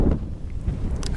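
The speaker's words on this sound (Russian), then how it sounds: "Ветрище, блин, сегодня вообще жесть." Strong wind gusts through a forest, buffeting the microphone with low rumbling bursts and a soft airy hiss, loud and close for a brief moment.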